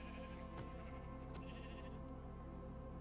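Sheep bleats from Minecraft Java 1.21.4, a couple of short game-animal calls over a steady bed of game music and ambience, moderately close and fairly quiet.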